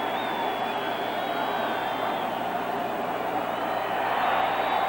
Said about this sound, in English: Capacity crowd in the stadium.